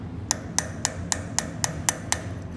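A hammer strikes a chisel on a CV shaft in gentle, evenly spaced metallic taps, about eight in a row, each sharp and ringing over a low background hum.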